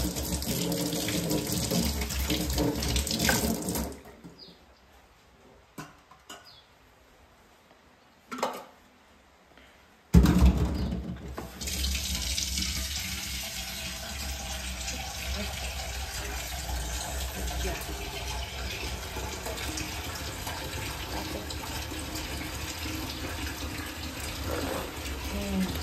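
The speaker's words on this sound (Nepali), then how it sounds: "बाहिर पानी पनि पर्दैछ" Steady rain falling outside, a continuous broadband hiss that drops to near silence for a few seconds before returning and holding evenly to the end.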